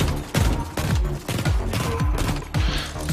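Heavy, booming shots fired in a video game, about eight punchy blasts in irregular succession, each with a deep thump and a short ringing tail, loud and close.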